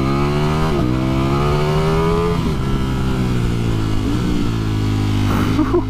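A 2020 Ducati Streetfighter V4 being ridden, its engine loud and close, with a sustained roar that rises and falls in pitch as it pulls out of corners and shifts gears, alone without talk.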